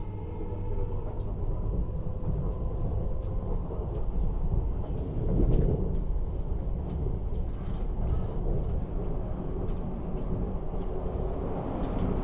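An Elizabeth line Crossrail passenger train nearing a tunnel on the Shenfield to Paddington route, heard from on board as a steady low rumble with a brief swell midway and faint rattles.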